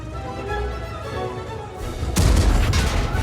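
Tank destroyer cannon fire in the Vipera game, with a heavy boom cutting in abruptly after a low rumbling engine drone and leaving a loud, rolling aftermath.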